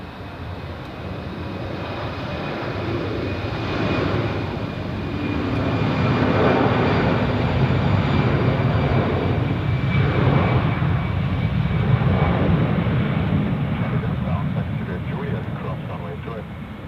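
An airplane rolls for takeoff on a runway at Zurich airport, a steady loud engine roar swelling and holding throughout, with faint radio talk underneath.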